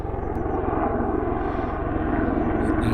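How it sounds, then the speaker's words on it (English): A military helicopter passes close overhead near a base, its low rotor thump pulsing steadily and loudly throughout with no talking. "Now we have helicopters."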